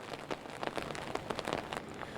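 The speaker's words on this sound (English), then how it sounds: "the rain is coming down here along Harper Avenue" Heavy rain falling on a street along Harper Avenue in the Charlotte Harbor area during a hurricane: a steady, dense patter of drops hitting the pavement close by, with scattered louder splashes and no voices.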